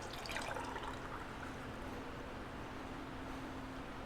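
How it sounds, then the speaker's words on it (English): Keto batter is poured in a steady, continuous stream into a measuring cup, a soft close liquid rush with faint splashing and no talk. "I'll actually just pour this into a measuring cup"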